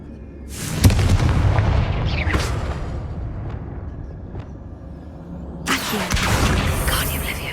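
Spell blasts from the Confringo fire spell in Hogwarts Legacy go off as heavy booming explosions, two big bursts near the start and another near the end, with rumbling debris between.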